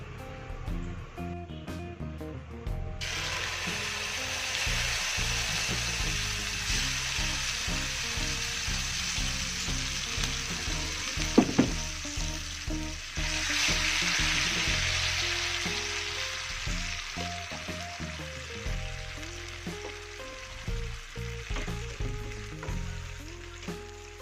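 Ground green chili paste sizzles in about 10 ml of hot oil for sambal ijo, a loud, steady hiss that swells once stirring begins, with scraping and knocking of a spatula throughout, no voices.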